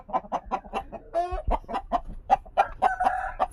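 Native fighting rooster, a young game bird being readied for Sankranti cockfights on a village farm, clucking in a run of short repeated calls, close and fairly loud, with a brief crowing-like phrase partway through.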